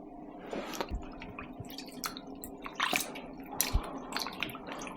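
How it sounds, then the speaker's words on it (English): Plums being rinsed briefly in cold water on an industrial scale: irregular drips, splashes and wet squishes of fruit under a low running hum, close and moderately loud. "I'm just going to wash the plums. Just briefly, not too much, just with some nice and cold water."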